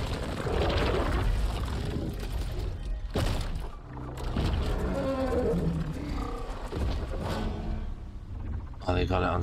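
Huge mechanical mammoth machine in Horizon Forbidden West letting out deep, rumbling roars, loud and close, in several bursts with gaps, while a person talks over parts of it.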